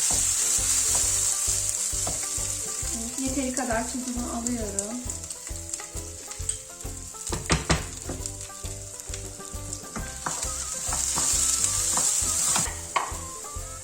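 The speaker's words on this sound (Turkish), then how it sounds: "Tam birleşinceye kadar kavuracağım şehriyelerimi." Orzo and rice roasting in butter in a pot for chicken pilaf: a steady, loud sizzle and frying crackle runs throughout, with stirring scrapes and a few clinks, while someone speaks briefly.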